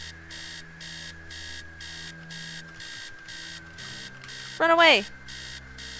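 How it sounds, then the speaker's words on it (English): Alarm clock blaring upstairs in the horror video game Stories Untold, a steady pulsing electronic beeping that repeats throughout, with a short shouted voice cutting in near the end. "Upstairs, the sound of the alarm clock blaring."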